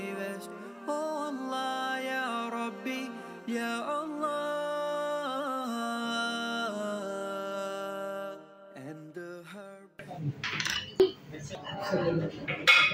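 Fried potatoes being served onto plates for an Eid meal: steady music plays first, then a few seconds of clinking plates and clattering dishes close by.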